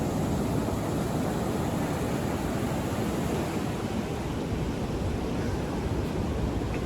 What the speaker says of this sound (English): just to enjoy the waves.